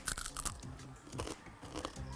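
Crisp bites into crunchy banana stalk (saha) chips, a quick cluster of sharp crackling crunches at the start, then scattered softer chewing crunches, close and fairly quiet.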